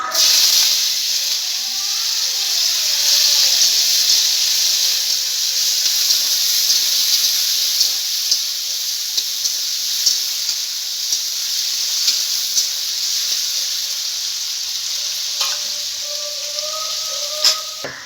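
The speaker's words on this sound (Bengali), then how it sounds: "তেল গরম হয়ে গেছে, এবার আলুটাকে ভেজে নেব।" Potatoes frying in hot white oil in a wok, heard as a loud, steady hiss and crackle that holds for the whole stretch, with faint clicks and brief taps scattered through it.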